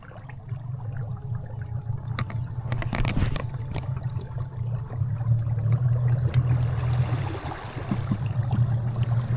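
Garmin Force Current trolling motor pushing a Bonafide PWR129 fishing kayak at full speed, a steady low droning hum with water rushing and gurgling along the hull, continuous and close throughout.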